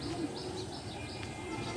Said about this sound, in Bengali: কিচির মিচির পাখির ডাক